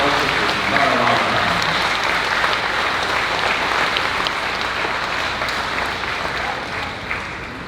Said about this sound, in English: Let's give Lowell a big round of applause.